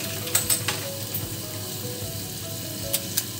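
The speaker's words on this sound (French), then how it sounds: "Donc voilà, on laisse fondre le beurre." Butter melts and sizzles in a pan for a béchamel, a steady close frying crackle with a few sharp spits and light clinks of a utensil against the pan.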